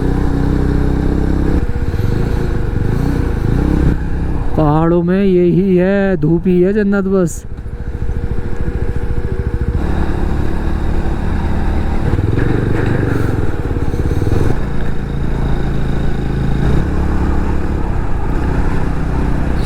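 Motorcycle engine droning steadily while riding off-road on a dirt track in Ladakh, loud and continuous with wind noise and rattling, a voice talking over it and a brief tonal whine partway through.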